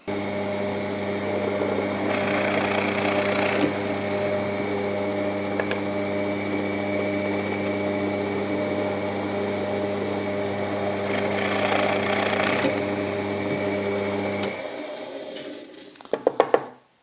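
Pillar drill spinning an 8 millimetre bit through wood, a steady whining motor hum with two brief rougher bursts of cutting noise, then the motor winds down and a few knocks follow at the end.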